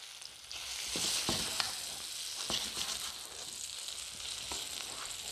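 A red snapper fillet sizzles steadily in hot oil while being flipped in a pan, with a bright continuous crackle and a few sharp clicks and taps from the spatula.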